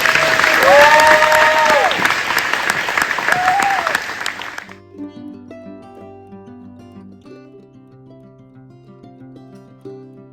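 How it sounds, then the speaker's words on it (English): Church congregation applauding during a service at Missionary Grove Church, a dense burst of clapping under a voice for about four seconds before it cuts to quieter organ or keyboard notes. "how about a round of applause?"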